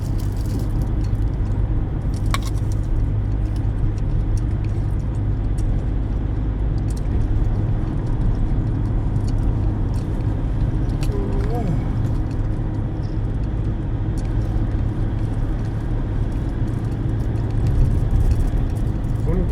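A car cruises along a highway between Khorat and Chaiyaphum, giving a steady, continuous low road-and-engine drone from inside the cabin that holds an even level for the whole stretch.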